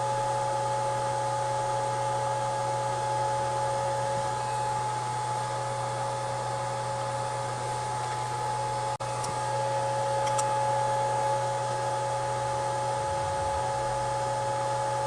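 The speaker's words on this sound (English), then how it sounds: "Let's get it onto the rework station and swap out the HDMI port." A hot-air rework station heats a PS5 Slim CFI-2116 board to remove its HDMI port, giving a steady, even blowing hiss with a constant hum throughout, close and alone without speech.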